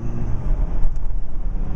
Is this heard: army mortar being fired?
no